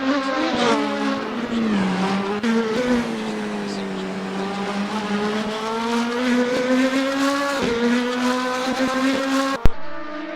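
Indy Lights race cars in a virtual motorsport race in Ohio, loud close engines whining and rising in pitch as they rev through gears, holding a steady droning tone, with a sharp knock near the end.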